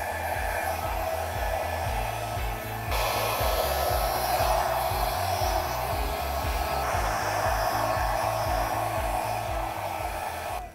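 A hair dryer blows steadily over acrylic pour paint, a loud continuous whirring hiss with a rapid pulsing flutter, shifting in intensity as the airflow moves, running unbroken for the whole stretch.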